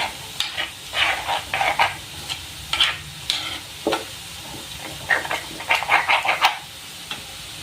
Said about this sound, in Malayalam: ചെറിയ തിളയൊക്കെ വന്നിട്ടുണ്ട്